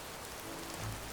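Steady rain falls in a video game, a dense, even hiss of drops on surfaces filling the brief moment without any voices.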